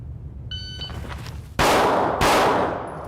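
Two sharp, loud pistol shots ring out about half a second apart during a live-fire drill with a Vortex Defender red dot sight, each followed by a fading echo, after a few faint electronic beeps.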